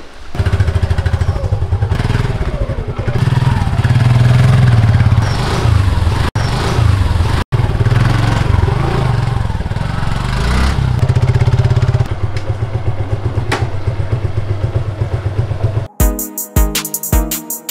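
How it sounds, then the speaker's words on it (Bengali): A Suzuki Gixxer motorcycle being ridden, its engine droning loudly and steadily with rises and dips in revs, a couple of sharp clicks midway and a choppy burst near the end. "চলেন এবার একটু বাইক চালাই"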